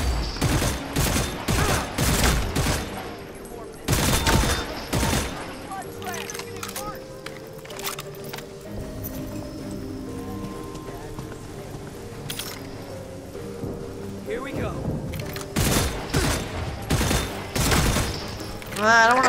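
Rapid bursts of gunfire from the video game Redfall, in clustered volleys at the start and end with quieter game sounds between, while players talk over it.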